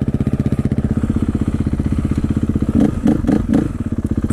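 A motorcycle fitted with a Rekluse clutch rides along, its engine giving a loud, steady close-up drone with a rhythmic pulse, joined by a few thumps and clatters near the end.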